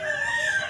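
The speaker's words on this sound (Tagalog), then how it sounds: "ito yung mga manok ko" During flooding, a rooster's crow rings out in a short, clear, sustained call from nearby chickens, with no other sound.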